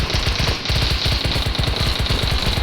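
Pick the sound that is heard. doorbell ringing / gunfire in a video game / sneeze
gunfire in a video game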